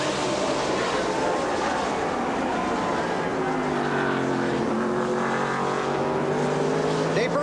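Race cars roar through the final lap of a 2005 NASCAR race at Watkins Glen, a loud sustained engine drone with shifting pitch as cars pass, while a commentator talks over it.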